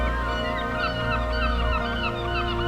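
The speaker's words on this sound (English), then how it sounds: "There goes a seagull." Seagull calls ring out in a string of harsh, honking cries over a steady, dense background wash, fairly close and with no talking.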